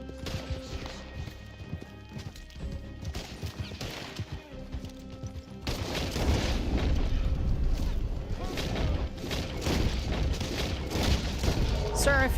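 Gunfire in the Red Dead Online western game, heard as booming shots that grow denser and louder halfway through, amid horse hooves, whinnies and dense game noise, with a person talking.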